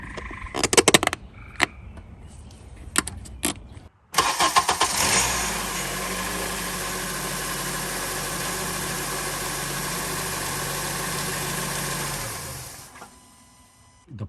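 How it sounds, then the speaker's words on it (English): A car engine cranks and starts during a power steering check, then idles steadily for several seconds before being shut off, after a few sharp clicks and knocks of work beforehand. "We'll turn the car on for 5 seconds and we'll shut it off."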